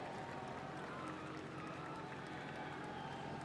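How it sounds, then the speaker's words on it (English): A crowd at a Formula Drift pro competition cheers a driver, making a steady, distant wash of noise with scattered clapping throughout. "Make some noise for Matt Field, waving to the crowd"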